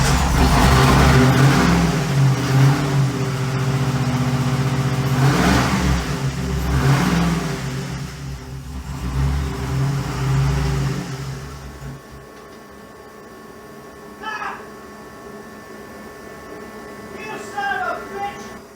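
A 6.0 LS V8 swapped into a Pontiac G8 runs loudly, with rough revving and uneven idle dominating the first twelve seconds before dropping off, while a few short chirps follow near the end over quieter background.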